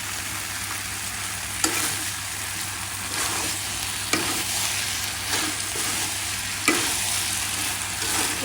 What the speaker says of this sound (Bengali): একটু ভাজা ভাজা করে